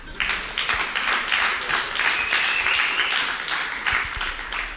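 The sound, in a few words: audience applause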